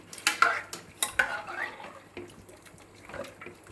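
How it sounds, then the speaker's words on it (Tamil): A spoon stirs country chicken curry in a pot, with several quick clinks and scrapes against the metal early on that fade into softer, slower stirring. "இதை போட்டேன்னா போட்டுட்டு நல்லா ஒரு கலக்கிடணும்"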